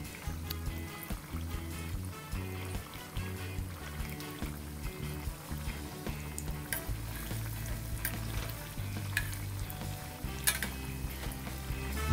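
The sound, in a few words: frying coconut butter biscuits in a kadhai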